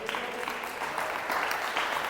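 A church congregation claps together in a dense, steady burst of applause during a sermon, filling the space evenly for a couple of seconds.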